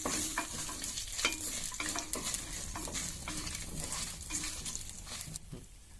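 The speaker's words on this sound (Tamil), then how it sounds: "இப்போ இதை நல்லா வதக்கி விட்டுக்கலாம்." Pepper, cumin and dried red chillies sautéed in a pan for mutton nalli kulambu, a steady close sizzle with regular scraping stirs of a spoon against the pot throughout, fading slightly near the end.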